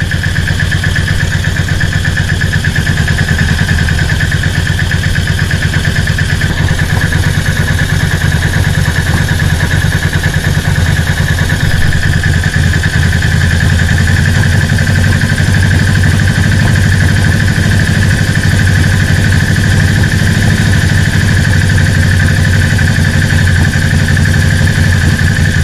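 A motorcycle engine idles steadily and loudly for the whole stretch while its carburettors are being synchronised and the idle speed set, a constant close drone with no revving or pauses.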